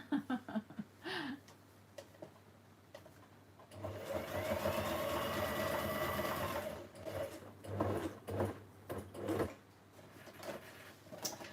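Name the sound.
sewing machine hum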